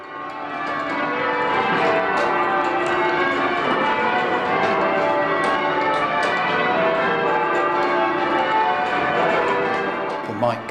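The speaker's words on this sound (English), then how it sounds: "People might consider bells to be a bit irrelevant now in calling people to worship" Church bells peal at All Saints in High Wycombe, a dense, continuous ringing of overlapping bell tones that stays loud and steady throughout.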